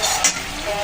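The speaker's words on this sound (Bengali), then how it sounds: "মশলাটা সুন্দর করে কষিয়ে নিলাম" Spice paste with turmeric sizzles steadily as it fries in hot oil, a close, continuous hiss with a brief brighter flare partway through.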